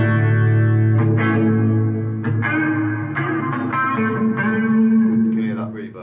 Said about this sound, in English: You can hear that reverb there mixed with the chorus.